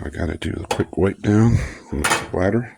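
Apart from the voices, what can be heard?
cutlery rattling in spoon tray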